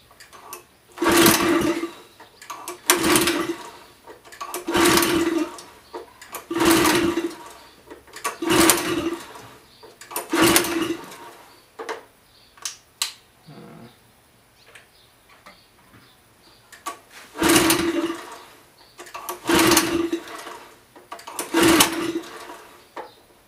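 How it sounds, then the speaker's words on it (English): Repeated pull-starts on a pressure washer engine set to choke, with about eight loud rope-pull bursts in a steady rhythm, a pause in the middle and a few short sputters, no clear running engine. "Let's turn it to choke and give her a pull and see what happens."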